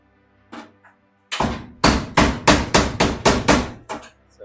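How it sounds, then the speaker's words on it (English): A hammer drives a chisel through the front apron of a 1968 VW Beetle: a couple of isolated knocks, then a rapid run of about seven loud, sharp metallic strikes and one last blow, close and with no talk. "So this one I'll try to just cut it with the chisel."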